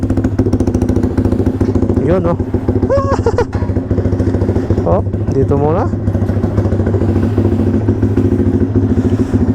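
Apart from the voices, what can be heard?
loud motorcycle engine with aftermarket exhaust pipe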